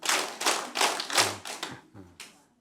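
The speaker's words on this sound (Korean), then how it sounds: "박수 4번 시작." An audience at a morning Bible lecture claps in a counted sequence, a group of ragged, fairly close claps with a few dull thuds, trailing off as some people clap out of step.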